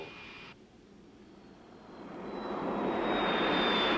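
A gas turbine engine in the Firebird concept car spins up with a high steady whine and a swelling roar that grows louder and fuller toward the end, heard alone with no voices.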